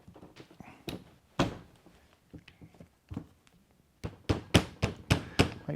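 The receiver of an Umarex HK416D gas blowback rifle being closed and locked, a run of sharp metallic clicks and knocks, close and uneven, which turn into a quicker series of firm snaps near the end.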